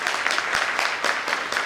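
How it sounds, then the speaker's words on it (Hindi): A crowd at a business training session in a Meerut hotel claps loudly and steadily, a dense wash of applause with no pauses. "एक बार जोरदार तालियां मेरे गुरु शेट्टी भैया के लिए"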